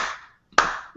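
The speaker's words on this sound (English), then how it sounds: "And they clap those hands together." Two quick hand claps ring out in a quiet room, each a sharp slap with a short decaying tail, separated by a brief silence.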